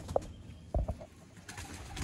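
Sialkoti pigeons coo softly in a couple of short, low calls, with a brief flutter of wings amid faint background noise; quiet and close.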